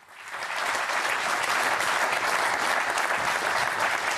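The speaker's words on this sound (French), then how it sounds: "ça applaudit" A French television studio audience breaks into sustained applause that swells quickly and stays steady and loud throughout.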